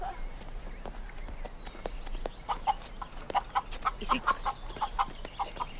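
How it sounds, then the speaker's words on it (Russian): A hen clucks repeatedly in short, uneven bursts, close by, over faint background noise with no speech. "Кура."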